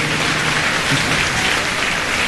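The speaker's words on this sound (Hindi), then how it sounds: "ताली बजाइए।" An audience at an award ceremony honouring top NEET and AIIMS exam rank holders claps loudly and continuously, a dense, even burst of applause throughout.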